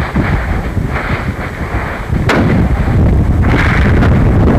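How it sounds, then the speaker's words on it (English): A single sharp rifle shot during a caribou hunt in northern Manitoba cracks out once near the middle, set against loud, continuous wind buffeting the microphone outdoors. "Now take John's gun and shoot something for him"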